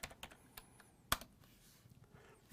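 Keystrokes on a computer keyboard while entering a server IP address, a few scattered quiet clicks with one sharper, louder key strike near the middle, close and alone without talk.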